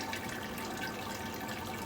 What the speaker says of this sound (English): I'm still waiting for the Sparge Water to completely go through here